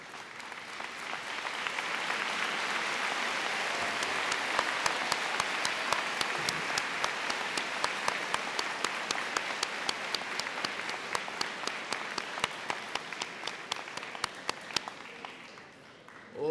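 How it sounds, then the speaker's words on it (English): Sustained applause from an audience at a high school senior convocation, a dense, loud wash of clapping that holds for about fifteen seconds before tapering off. "Thanks for the clap"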